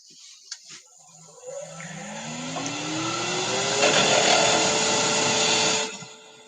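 A carbide tool cuts a soft metal ring on a spinning lathe, giving a steady whirring hum with a rising whine that builds to a louder grinding tone and then stops abruptly.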